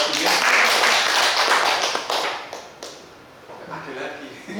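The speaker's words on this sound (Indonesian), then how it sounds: "kasih tepuk tangan buat Pak Gimin." A group claps in a classroom during a teacher-training session on positive school culture, bursts of fairly close applause that thin out midway and pick up again, with voices mixed in.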